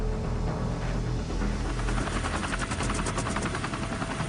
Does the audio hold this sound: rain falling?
no